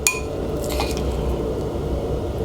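Pesto paste spooned onto salmon, a sharp clink of spoon on dish at the start followed by faint soft scraping and squishing, close and quiet.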